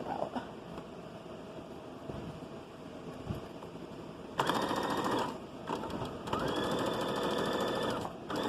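A sewing machine stitches the side seam of a dress sleeve, two fast steady bursts of rattling stitching, close and loud, separated by a brief pause, over a quiet room.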